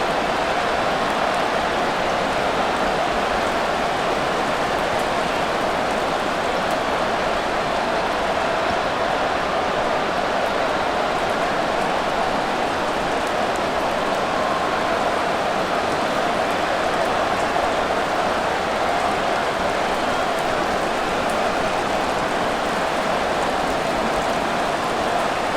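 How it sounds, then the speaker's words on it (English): Steady rain falls in the Madden NFL 24 video game during a football game, a dense, even hiss that holds unbroken throughout. "The rain set to continue as we are underway"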